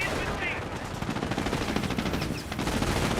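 Rapid machine gun fire from the Company of Heroes battle game, dense overlapping bursts of gunshots rattling continuously with a brief dip before resuming.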